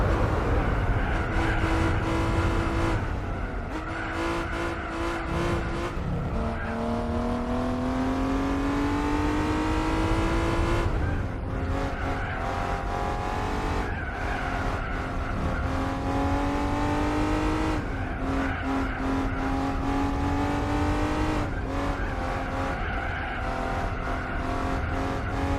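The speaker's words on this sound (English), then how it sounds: "I love the sound of this car." A race car in Gran Turismo 4 howls through repeated gear changes, engine pitch climbing then dropping with each shift over a steady loud drone, with tire squeal mixed in.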